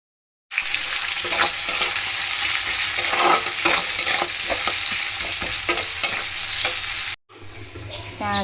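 Chopped cabbage and water hit hot fried spices in a home kitchen pan, giving a loud burst of sizzling and hissing with scraping stirs, then a brief pause before sizzling resumes.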